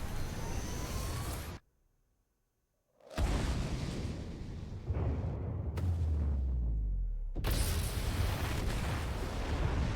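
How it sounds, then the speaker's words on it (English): Orbital death cannon blasts from the video game Tales of Arise: deep booming impacts and rumbling roars, one cutting to sudden silence, then renewed heavy blasts with a low rolling tail. "They have an orbital death cannon?"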